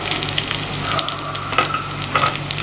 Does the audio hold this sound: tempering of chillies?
yes